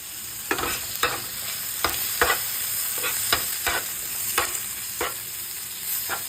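Leftover egg dish is reheated in a pan with a gentle sizzle, while a spatula scrapes and stirs in a loose rhythm of about a dozen quick strokes, close and fairly soft.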